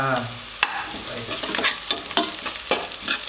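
Onions fry in a pan for vegetable salna while a spoon stirs them, a steady sizzle broken by sharp, irregular scraping clacks of the utensil against the pan, close and clear with no talking.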